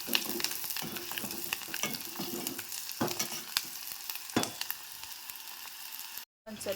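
Onions frying in oil with tomato and green chilli until golden, a close steady sizzle with repeated scraping stirs of a spoon, ending in a brief silent cut.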